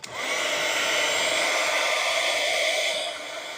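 Hair dryer blowing steadily and close for a few seconds over a watercolor painting, a constant whooshing hum with no speech.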